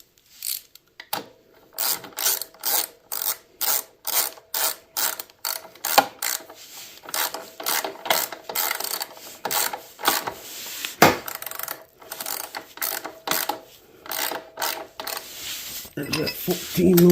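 Ratchet wrench tightening the nuts on a Honda XR650L lowering link, rapid bursts of clicking pawl strokes repeating close and fairly loud, with short pauses between runs and no talking.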